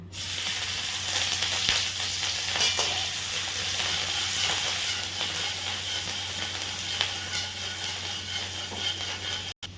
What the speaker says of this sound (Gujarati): ચાર નંગ લીલા મરચાં જે મેં ઝીણા સમાર્યા છે, હવે એને આપણે ફ્રાય કરી દઈશું